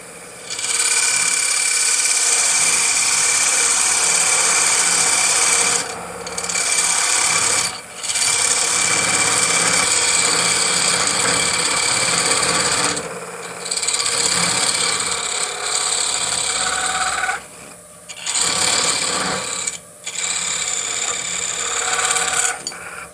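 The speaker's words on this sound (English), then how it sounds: "So we're going to use the parting tool." A wood lathe spins a workpiece while a parting tool cuts into it, giving a loud, continuous scraping rasp with brief dips where the tool lifts off, close up and without talk.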